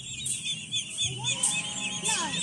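Chickens cluck at a petting zoo with goats nearby, a few short clucks and soft calls at a moderate distance over faint background noise.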